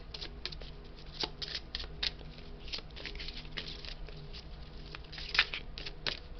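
Large oversized cards are handled and shuffled, giving close, irregular papery riffles, flicks and taps that come in uneven bursts, one sharper slap near the end, with no talking.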